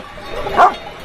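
A herding guard dog gives a single bark around a flock, a short mid-pitched yelp against steady outdoor background noise.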